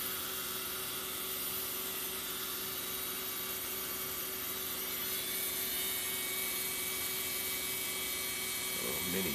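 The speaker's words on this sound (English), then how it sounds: "A little mini grinder." A small mini grinder whines steadily and evenly, a constant high-pitched motor drone at moderate volume used in a 12-string acoustic guitar restoration, holding the same pitch throughout.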